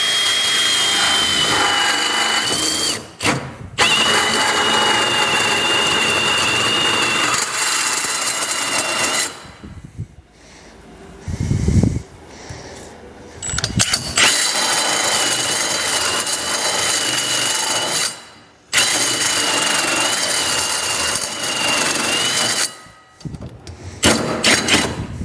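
Loud power tool drilling through the metal bed of a 2017 Chevrolet Silverado truck for a Curt underbed gooseneck hitch, running in long sustained bursts with brief pauses, alone without talk.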